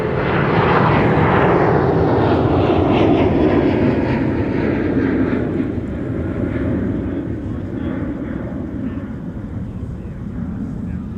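A jet airliner's engines roar loudly and steadily at Minneapolis–St. Paul airport, a broad rumble that slowly fades while a voice talks underneath.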